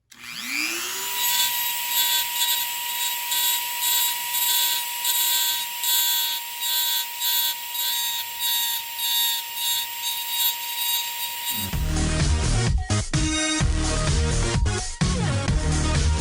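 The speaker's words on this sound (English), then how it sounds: "Do a little carving with this carving bit here." High-pitched rotary tool whine, steady and close, as a carving bit works a wooden fishing lure, then a burst of rougher grinding and scraping noises near the end.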